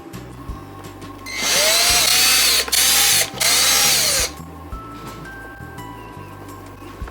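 A CNC router machines a carbon ESC adapter plate held on an MDF plate over an aluminum bed, a loud high spindle whine cutting in for about three seconds with short breaks amid background stepper motor hum.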